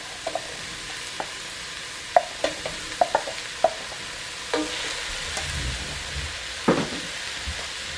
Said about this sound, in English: so green beans in. Zucchini and peppers are going in.